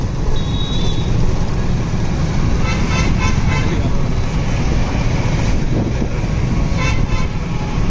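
A shared auto rickshaw horn toots near the start over steady, loud road traffic and wind rumble on a ride toward Prayagraj, with a few more faint horn blasts from surrounding vehicles later.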